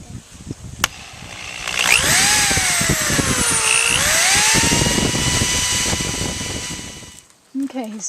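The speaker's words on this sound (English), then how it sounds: "Okay, he's drilled the holes." A power drill whines as it bores holes for a top bar beehive, its motor pitch rising and dipping through a sustained run of several seconds before cutting off. Scattered knocks and handling noises surround it.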